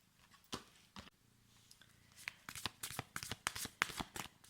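Tarot cards shuffled by hand for a card reading, a quiet run of quick riffling flicks that speeds into a dense burst of crisp snaps, close and with no talking.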